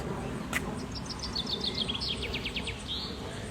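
Small birds chirping in a rapid series of high, thin tweets that run for a few seconds close to the listener, over a low rumbling background.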